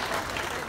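Audience applause at a comedy magic show, a short burst of steady dense clapping filling the room, loud and continuous.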